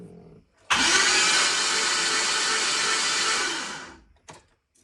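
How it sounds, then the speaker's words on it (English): A turbocharged Chevy Silverado cranks over with its spark plugs removed and the fuel pump unhooked. It gives a loud, even, whirring spin for about three seconds, then winds down, with a couple of faint clicks afterward. "It has no spark plugs in it, but you know, cranking is still cranking."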